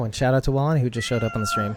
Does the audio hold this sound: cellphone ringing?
no